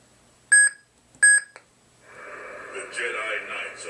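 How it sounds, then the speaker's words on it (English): Two short, loud electronic beeps from a Korbanth Duke lightsaber with a Crystal Shard 3.0 board as it switches sound font, followed by a low, raspy voice starting to talk. "to change fonts, you hold this down till you hear a beep"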